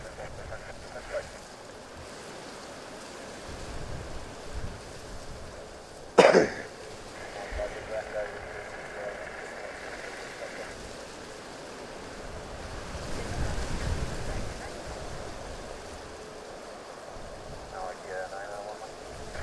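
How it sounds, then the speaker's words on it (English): Wind blowing on a breezy day at an airport, a soft rushing buffet against the microphone with gusts swelling and fading, under occasional voices and a cough. "Probably hear some of the wind as well here. Quite breezy, as I say."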